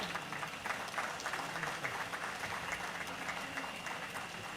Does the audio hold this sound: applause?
yes